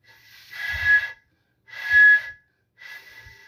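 Breath blown across the mouth of a bottle sweetened with honey during a folk ritual: three separate breathy puffs with a faint hollow whistle, evenly spaced and close.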